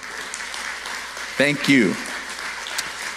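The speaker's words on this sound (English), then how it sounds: "why don't you just go ahead and give yourself a round of applause" Graduating seniors at a high school graduation ceremony applaud themselves, a steady, fairly faint wash of clapping from a crowd throughout, with a brief spoken thanks rising over it midway.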